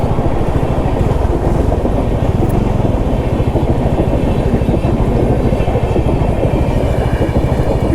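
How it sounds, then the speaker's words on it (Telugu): A Bhubaneswar–Bangalore express train rolls past a railway crossing, loud and close, its wheels beating a fast, steady clickety-clack over the rails under a heavy rumbling roar that never lets up. "ఇది ఏం ఎక్స్ప్రెస్? భువనేశ్వర్ బెంగళూరా?"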